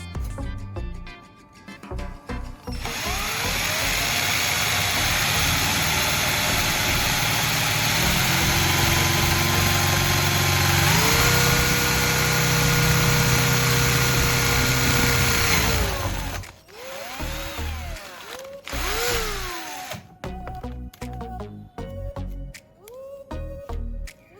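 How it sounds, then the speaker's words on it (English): A power drill whines loudly for about fourteen seconds, boring a hole through the middle of a circuit board, its pitch shifting as it bites, then stops, followed by scattered clicks and handling noises. "I'm going to drill a hole right in the middle of the circuit board."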